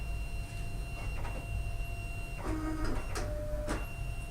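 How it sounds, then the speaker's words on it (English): A card printer feeds a cleaning card inside during its cleaning cycle, giving a steady mechanical whine and hum broken by a few short clicks and brief motor whirs, fairly quiet and close. "It's going to feed in the card."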